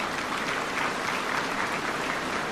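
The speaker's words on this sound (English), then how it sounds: "Let's give them a round of applause." Audience applause for the winners of the 2023 secondary school essay writing competition at a regional heads-of-state summit, a steady, dense wash of many hands clapping throughout, fairly distant and even in level.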